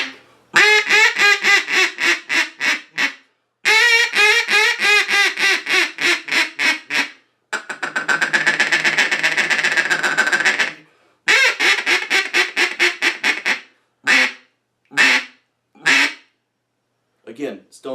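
FTF duck hunting call blown in a series of quacking runs, loud and close, with rhythmic descending cadences, a raspy sustained stretch, then short spaced single quacks.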